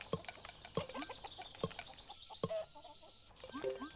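Chickens cluck in the Road to Guangdong video game: a series of short, sharp clucks and squawks in an irregular rhythm, fairly close and clear, with no talking over them.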